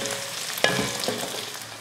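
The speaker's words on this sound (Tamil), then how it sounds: "இந்த மாதிரி ஒரு காயை 1-2 நிமிஷம் நல்லா வதக்கி விட்டுக்கோங்க." Vegetables for a Tamil kara kulambu, brinjal, drumstick and potato, sautéing in a hot pan, a steady close sizzle with a brief louder burst of stirring partway through.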